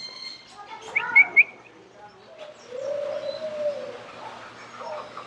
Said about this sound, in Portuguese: Jandaia verdadeira.